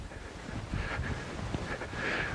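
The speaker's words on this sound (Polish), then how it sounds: "Trochę wieje wiatr." Steady wind buffeting the microphone, a low rushing rumble with faint gusty swells and no voices.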